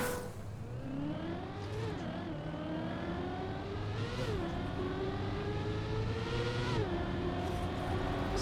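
Car engine in a racing video game, revving and accelerating through several gear shifts with rising and dropping whine, steady and close without any voices.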